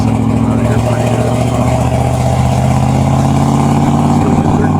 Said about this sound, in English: Still in third gear. Revving it up a little bit.